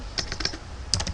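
A computer keyboard being typed on to enter a web search, delivering a few quick bursts of close, crisp key clicks with a brief pause between groups.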